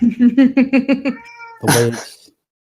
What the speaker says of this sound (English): Is somebody's kitty meowing?